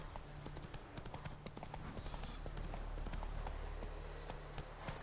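Roach, a horse in The Witcher 3, gallops with quick, steady clip-clopping hooves that carry loud and close for the whole stretch, with a faint voice briefly calling out.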